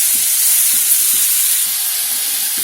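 Tomatoes going into softened onions in a hot pan for brinjal gothsu, with a steady, loud close-up sizzle and hiss and faint stirring underneath.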